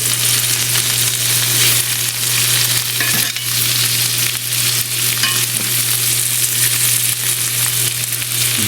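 Steak frying in butter with thyme in a pan, a loud, close, unbroken sizzle with a brief bump partway through as the steak is flipped.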